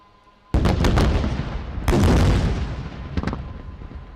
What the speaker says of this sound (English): Please watch area FOL dumps at Tango 4, Tango 5 on the left and Tango 8 and Tango 9 on the right for incendiary strikes.